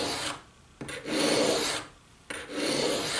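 Hand file rasping across a broadhead arrow tip in two long, close strokes, each a harsh scraping rub separated by a short pause, with no talking.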